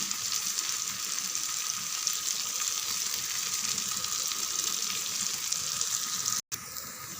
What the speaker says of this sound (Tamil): இங்கே பாருங்கள், மீனெல்லாம் நல்லா வெந்துடுது